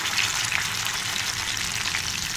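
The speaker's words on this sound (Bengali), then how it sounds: "তো দেখুন এবারে আমি মাছটা উল্টে দেব।" Hilsa fish steadily sizzling and frying in hot oil in a pan as pieces are turned over, a dense continuous hiss held at even, close loudness with no talking.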